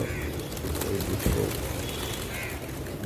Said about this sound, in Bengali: আমি এতদিন কোনোদিন এত পায়রা খেতে দেখিনি।